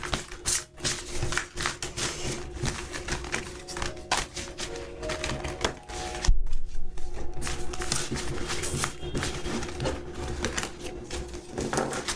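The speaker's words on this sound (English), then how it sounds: "I love shuffling my decks like this" Card decks being shuffled by hand, a run of rapid crisp riffling bursts and taps repeating close up through the whole stretch, with no talk over them.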